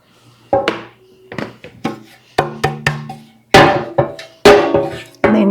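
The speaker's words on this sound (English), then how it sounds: "And then you just bang it down here just like this all the way around." A floured cake pan is banged down repeatedly on a kitchen counter, a series of sharp, loud knocks in an uneven rhythm, spaced about half a second to a second apart and growing heavier toward the end.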